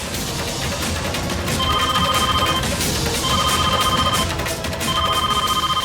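A telephone rings with a repeating electronic ring pattern, three bursts of ringing over a steady busy background noise, with no talk.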